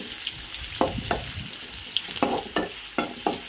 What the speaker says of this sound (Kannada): ಎಣ್ಣೆದಲ್ಲೇ ಫ್ರೈ ಆದರೆ ಚೆನ್ನಾಗಿರುತ್ತೆ, ಮೆತ್ತಗಾಗೋಗುತ್ತೆ